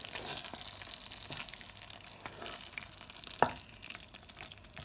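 Stuffed brinjal with finely chopped green coriander is mixed in a pan after the gas is switched off, giving a soft, faint crackling sizzle with light scraping stirs and one sharp clink of the utensil near the end; no speech.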